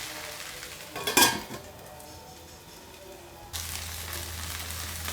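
Lady's finger (okra) fries in a covered pan, with a quick metallic clatter early on followed by a low, steady sizzle that grows slightly louder and is joined by a constant hum partway through.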